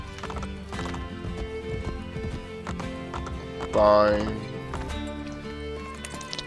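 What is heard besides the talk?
horse galloping in a video game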